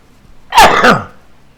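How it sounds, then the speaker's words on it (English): A single sharp sneeze from a man during a live-stream, close and loud, bursting out in two quick pulses then fading to quiet. "I'm gonna sneeze."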